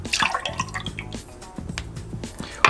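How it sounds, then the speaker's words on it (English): Almond milk poured into a non-alcoholic cocktail, soft gurgling and dripping liquid sounds, close and faint. "Next, you'll add 2 ounces of almond milk,"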